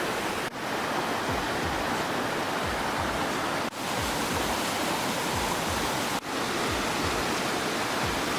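A small waterfall with only a little water coming down makes a steady, soft rushing hiss in an outdoor setting, continuous and fairly quiet, broken by a few brief dips.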